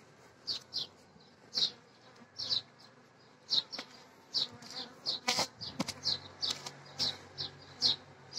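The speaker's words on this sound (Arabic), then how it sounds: "شوف معايا النحل اللي في الظل" Honeybees buzz around shaded hives in hot weather, a faint hum broken by short bursts close by, with sharp bird chirps repeating over the top.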